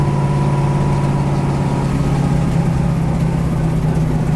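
Engine of a right-hand-drive 1967 Ford Mustang GT500 with 500-plus horsepower on a track, a steady droning hum held at constant load, loud and close throughout with no talking.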